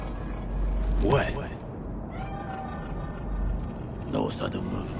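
Cat meowing in Cyberpunk 2077, with two drawn-out meows a few seconds apart, each rising and falling in pitch and clearly audible over low game ambience, with someone talking briefly in between.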